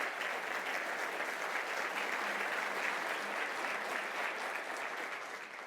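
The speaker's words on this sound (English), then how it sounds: "That deserves a big round of applause." Audience applause fills a State of the City 2023 address in Livonia, a steady, even wash of many hands clapping that holds at a constant moderate level from start to finish.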